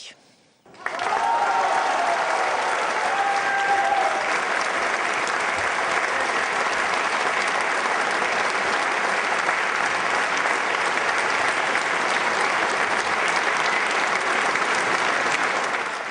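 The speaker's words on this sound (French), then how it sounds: "à la fin il a même droit à une standing ovation" Socialist Party activists give a standing ovation in a hall after a speech. The applause is loud, continuous and unbroken, rising quickly and holding at full strength for the whole stretch.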